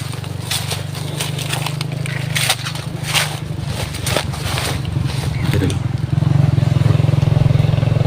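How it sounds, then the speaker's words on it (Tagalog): A motorcycle engine drones steadily and fairly close, a low rumbling thrum throughout, mixed with clattering knocks and rough bumping noises, growing louder and stronger toward the end. "May nakamotor."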